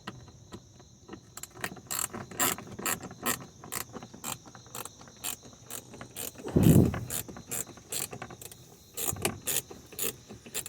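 A ratchet clicks in quick repeated bursts while the last screw comes out of a VW Jetta TDI, with a dull clunk partway through. It is faint and close, with no talking.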